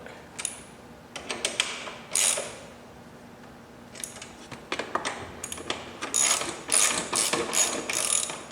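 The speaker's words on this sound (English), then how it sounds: "So we'll go ahead and use the ratchet to get everything snug" A ratchet snugging M10 high-strength steel frame slider bolts on a Yamaha R3 motorcycle, with bursts of rapid metallic clicking separated by pauses and growing denser toward the end, close and clear with no talking.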